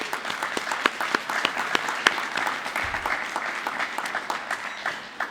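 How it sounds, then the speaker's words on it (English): An audience gives a round of applause at an Earth Day celebration, a sustained, even patter of many hands with distinct individual claps, moderately loud and fading slightly at the end. "If we could just get a round of applause for all of that hard work."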